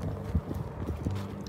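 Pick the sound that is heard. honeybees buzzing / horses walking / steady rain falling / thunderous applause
horses walking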